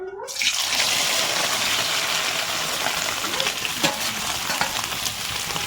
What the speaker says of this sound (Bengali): কড়াইয়ে সাদা তেল দিয়ে দিয়েছি। এই পনিরটা দিয়ে পরে ভাজবো।